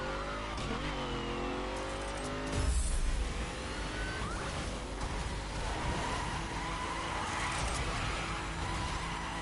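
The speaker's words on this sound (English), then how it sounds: "Oh, the drag cars." A drag car in The Crew 2 racing game: a loud, sustained engine roar with rising revs and a skidding tire squeal partway through, the engine droning on continuously throughout.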